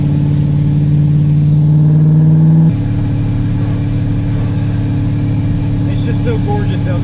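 A 1000+ HP Corvette drones steadily up close, and its tone shifts abruptly partway through as the exhaust opens, then holds a deeper, even rumble.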